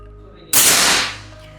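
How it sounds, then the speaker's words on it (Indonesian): A PCP air rifle fires a single sharp, loud shot at a 25-meter range, a sudden crack that trails off in a brief hissing decay. "Kita coba tembakan yang pertama."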